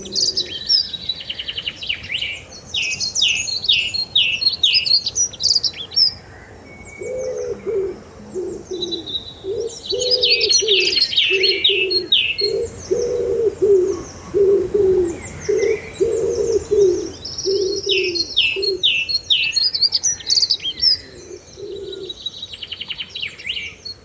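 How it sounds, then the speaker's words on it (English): Dawn chorus of birds: repeated high chirping song phrases overlap with a lower, rhythmic cooing call in the middle, fairly close and clear against quiet background, with no voices. "the birds were already singing"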